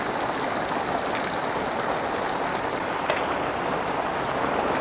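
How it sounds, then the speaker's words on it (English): Heavy rain pouring down outside, a dense, steady roar of hiss and patter that holds evenly throughout with no pauses and no voices. "Holy mackerel, that rain is really coming down."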